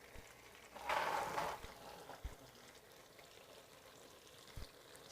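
Garlic frying in a pan for chicken salpicao gives a soft sizzle that swells for about a second, then settles into a faint crackle with a few light knocks.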